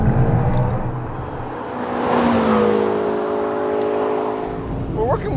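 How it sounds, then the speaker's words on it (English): McLaren 650S supercar from 2017 with 641 horsepower, its turbocharged engine accelerating under throttle with a rising whir of turbos spooling up, heard from inside, loud and continuous, climbing in pitch then levelling off. "I love that you can hear the turbos spool up too."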